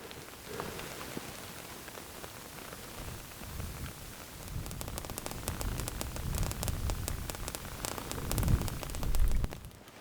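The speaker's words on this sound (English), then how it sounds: "You hear the static off those power lines?" Electrical static crackles off power lines out in the desert, a steady hiss that grows into denser, louder crackling bursts toward the end.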